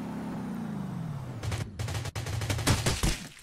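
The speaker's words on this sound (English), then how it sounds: "Shooting their pistols" Rapid bursts of pistol fire in the Rules of Survival battle royale game, a dense run of sharp cracks that starts after a quiet opening second and keeps going in quick clusters.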